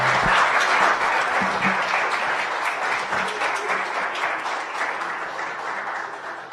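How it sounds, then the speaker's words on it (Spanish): Applause from an audience at an academic conference, dense sustained clapping from the start that slowly fades over several seconds, loud and close. "un aplauso por favor"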